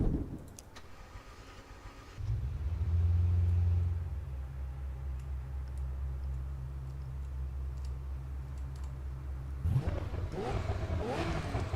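A powerful supercar engine in Assetto Corsa EVO revs up and holds a steady, deep roar, then settles into a sustained hum with a brief surge near the end.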